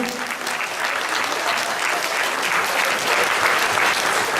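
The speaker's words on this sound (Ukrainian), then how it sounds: "Давайте оплесками привітаємо усіх учасників." Crowd applauding participants at a boxing tournament, the Carpathian Cup, a thick continuous clatter of many hands clapping, loud and even, swelling a little toward the end.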